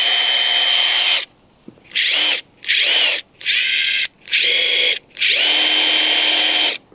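AEG Subcompact impact driver running at full power on setting 3, six loud bursts of high whirring with hammering rattle, separated by short pauses, the last burst longest, with no talk.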